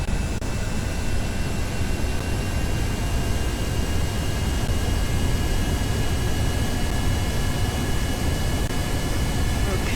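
Airplane engine at full throttle in the video game Kerbal Space Program, a steady loud broadband jet roar with faint high tones, constant for the whole span.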